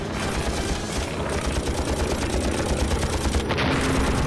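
Machine guns fire continuously from a WWII fighter plane attacking a Messerschmitt Me-109 in a dogfight, a loud dense rattling burst of rapid shots over a heavy rumble, close and unbroken throughout.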